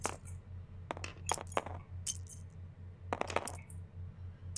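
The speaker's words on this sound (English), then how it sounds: "which means you get to roll 6 dice still" Dice rattling and clattering in the Arkham Horror board game, second edition, in repeated bright clinking bursts over a steady low electrical hum, with no talk.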